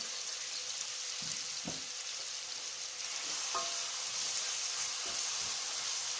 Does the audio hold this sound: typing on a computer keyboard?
no